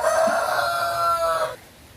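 A Javanese kampung rooster crows loudly nearby on a chicken farm, one long drawn-out call that cuts off abruptly into quiet, with a faint cluck at the start.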